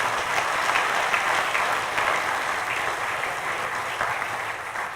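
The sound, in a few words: audience applause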